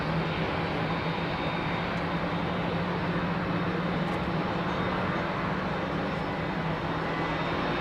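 A Boeing 787 Dreamliner lands at London Heathrow, giving a steady, dense engine and rushing-air roar with a low hum that stays loud and constant, no voices over it.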